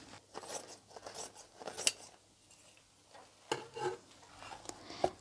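Scissors cutting around a craft backing piece, making a series of close, quiet snips and crisp crunching cuts in irregular bursts with short pauses between them.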